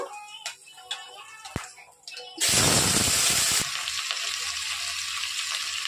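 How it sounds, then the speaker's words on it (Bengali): Vegetables dropped into hot oil in a pan burst into a loud, sudden sizzle, which then settles into a steady, quieter frying hiss, preceded by a few light clinks and kitchen handling sounds. "আমি এবার ভাজাগুলো করে নেব।"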